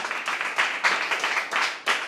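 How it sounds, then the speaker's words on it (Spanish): A church congregation claps during a sermon, a quick run of rhythmic handclaps from many people in uneven bursts, close and fairly loud. "Dele un aplauso al Señor Jesús."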